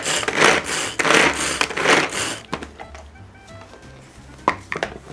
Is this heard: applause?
no